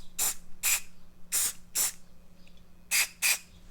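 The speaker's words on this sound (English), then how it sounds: "And then from there I get my spray" Six short bursts of aerosol spray hiss in two loose pairs and a triple, each about a fifth of a second, onto a pen being turned, with a faint steady hum beneath.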